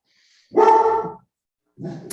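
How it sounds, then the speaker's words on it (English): Dogs barking at a friend's house: one loud bark followed by a pause, then a second bark starting, fairly close and heard alone without talk. "I'm at a friend's house trying to get on and the dogs are barking."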